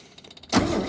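A Ford XB Fairmont, cold and with the choke off, cranks briefly with a few rapid ticks and then catches into a loud, rough roar close by.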